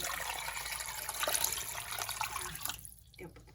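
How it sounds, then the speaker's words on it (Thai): Water pours steadily into a pot of pork ribs, a close, continuous splashing rush that cuts off near the end. "แล้วก็เติมน้ำนะคะ ใส่น้ำให้มันท่วม"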